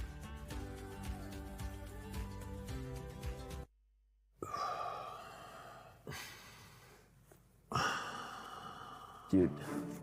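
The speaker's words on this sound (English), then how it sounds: "it's impossible to not hear you just breathing super loudly" A chess broadcast commentator breathes loudly into a close microphone, with sharp sighs and gasping breaths in several bursts after a stretch of background music.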